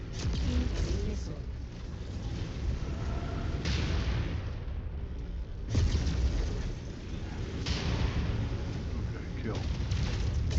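Missile explosions in the video game MechWarrior 5 boom and rumble through a dense, continuous wash of battle noise, with several heavier blasts standing out and a voice talking over the action.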